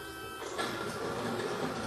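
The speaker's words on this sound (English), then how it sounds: "The machine jumps into action" A craft cutting machine starts cutting a celebration card design, giving a steady mechanical whirring hum that swells in after a brief moment and carries on without talk.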